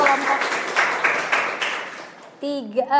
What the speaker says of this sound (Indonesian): Kita beri tepuk tangan untuk Feby dan teman-teman